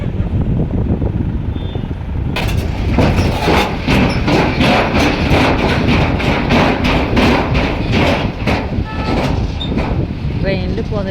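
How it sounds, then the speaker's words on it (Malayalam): A train runs steadily on its rails with a continuous rumble and rhythmic clatter, loud and close, as if heard from on board during a journey from Haridwar toward Yamunotri. "ട്രെയിനിൽ പോകുന്നൊരു സൗണ്ട് അല്ലേ"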